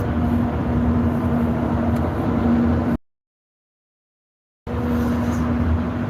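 A car cabin hums with steady engine drone and road rumble while driving, a continuous loud interior noise that briefly drops to complete silence before resuming, with no talking.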